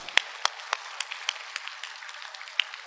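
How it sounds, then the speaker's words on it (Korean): A church congregation gives a short round of applause, with sharp, scattered claps that are spaced and fairly light and fade toward the end. "우리 박수 한번 쳐드려요."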